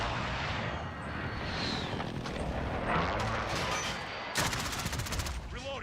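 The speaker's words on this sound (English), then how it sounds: "Friendly precision airstrike on the way." Precision airstrike explosions in Call of Duty Cold War, a rolling series of heavy blasts and rumbling booms mixed with rapid gunfire, loud and dense, with a sharp burst of impacts near the end.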